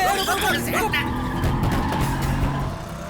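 A car pulls up and skids with squealing tires in a Hindi action movie scene, loud and close, mixed with background music and voices.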